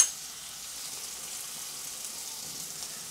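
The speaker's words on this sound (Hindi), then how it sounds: "प्याज को बहुत ज़्यादा फ्राई नहीं करना है हल्की सी ये प्याज नरम हो जाए" Onion frying gently in a pan for bhindi sabzi gives a soft, steady sizzle, close and even for a few seconds with no talk.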